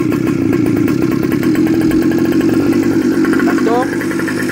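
A small motor scooter engine on a custom Go-Ped runs at a fast, buzzy idle, steady and close, with a faint rising whine near the end.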